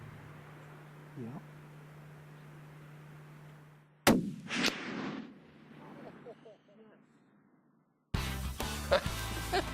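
A single sharp rifle crack rings out during a red stag hunt in New Zealand, followed by a rolling echo that fades into quiet outdoor ambience. Music then starts.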